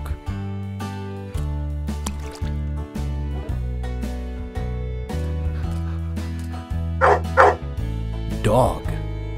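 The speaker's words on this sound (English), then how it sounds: "Dog." A few dog barks pop out near the end, two quick ones and then another, over steady background music.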